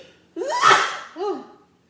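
A single close, sharp sneeze from a person during a garlic butter seafood meal with strong seasoning, followed by a short breathy after-sound.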